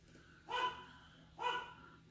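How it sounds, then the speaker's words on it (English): A dog barking indoors, two separate sharp barks about a second apart, fairly faint and alone against a quiet background hum. "The dog doesn't stop barking."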